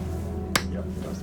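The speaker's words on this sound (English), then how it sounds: "Stacey, give me a clap in front of your face, would you?" A single sharp hand clap made in front of someone's face, standing out briefly over a steady low hum of room noise.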